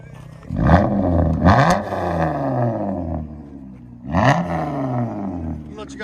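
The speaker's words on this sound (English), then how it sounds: "That sounds mean. Chrysler 200 V6." A 3.6L V6 Chrysler 200 on a straight-pipe exhaust with the resonator removed roars through three sharp, loud revs close by, each falling back to a rumbling idle.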